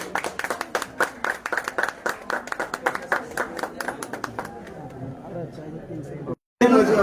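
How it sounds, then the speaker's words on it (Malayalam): An audience applauds at a jewellery shop's 14th anniversary cake-cutting ceremony, with dense rapid clapping for about four seconds that thins into scattered claps and a murmur of crowd chatter before a brief cut. "അടുത്തതായി ആനിവേഴ്സറിയുടെ ഭാഗമായിട്ടുള്ള കേക്ക് കട്ടിംഗ് സെറമണിയാണ്. നല്ലൊരു കൈയടിയാവാം."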